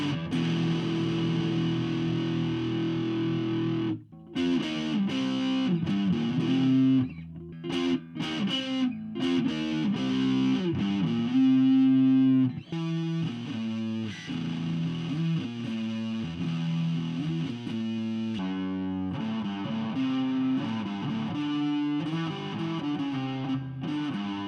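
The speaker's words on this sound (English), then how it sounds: "Let's change it to the dirty channel. Turn the gain up" Heavily distorted electric guitar through the dirty channel of an Orange Crush 35RT practice amp, gain about halfway, playing chunky riffs and chords, loud and close, with brief pauses between phrases.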